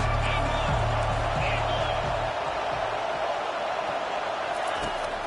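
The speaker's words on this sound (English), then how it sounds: "This crowd trying to make life miserable for this offense." Football stadium crowd roaring steadily through a live game broadcast, a dense continuous wash of massed voices at a constant level, with a low rumble easing after the first couple of seconds.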